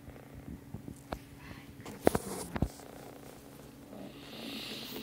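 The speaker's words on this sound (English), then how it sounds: "Faculty cats are being a little nutty because they want dinner." Cats restless and hungry for their dinner purr softly and continuously near the microphone, with a few sharp clicks and knocks around the middle and a faint hiss toward the end.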